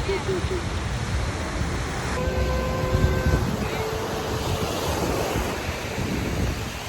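Steady wash of surf and wind noise along a shoreline, with a few faint tonal whistles and muffled voices in the background.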